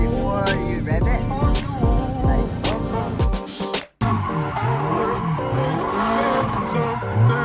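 Car drifting with tires squealing loudly and continuously, engine revving underneath; the screech cuts out abruptly for a moment, then returns with rising and falling wails.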